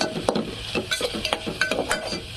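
Salt mixed into chicken biryani masala in a pan: repeated close scraping and clinking strokes of a spoon in a steady rhythm, with a light sizzle underneath.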